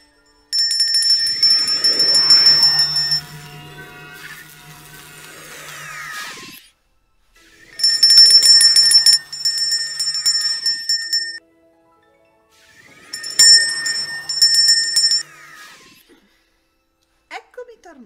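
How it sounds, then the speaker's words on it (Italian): A small magic bell rings in bright, shimmering bursts, three separate jingling passages with pauses between them, loud and close with nothing else over it. "ti ha regalato questo campanello che si chiama Teatro e che è magico"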